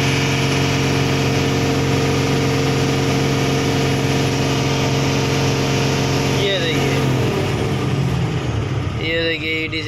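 An Ashok Leyland BS4 truck diesel engine with an EDC accelerator fault idles loudly and steadily, then is revved so its pitch rises and wavers near the end, close to the microphone.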